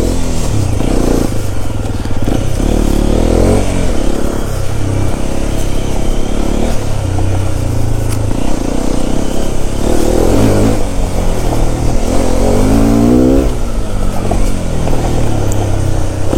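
A Hero Xpulse 210 motorcycle roars loud and close while off-roading, its engine revving and surging continuously with some rattling clatter throughout.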